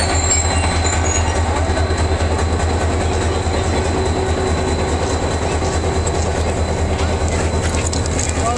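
The Shah Latif Express rolls through Pakistan from Karachi toward Ranpattani, a loud, continuous interior rumble of rails with rhythmic wheel clatter and occasional faint squeals, recorded close throughout.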